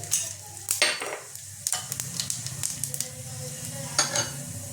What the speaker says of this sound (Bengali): তেলটা আমার গরম হয়ে গেছে, এবার দিয়ে দেবো গোটা জিরেটা